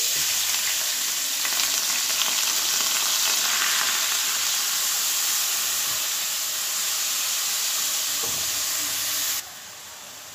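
Two chopped medium onions frying in hot olive oil or butter for chicken and spinach lasagna, giving a loud continuous sizzle and hiss with light stirring, close up and without speech.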